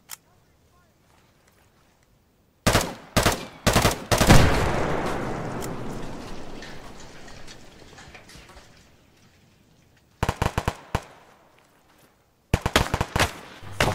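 Video game gunfire from a combat mission arrives in three separate rapid automatic bursts, the first long and echoing into a decaying wash, the later two shorter and sharp, with quiet gaps between them.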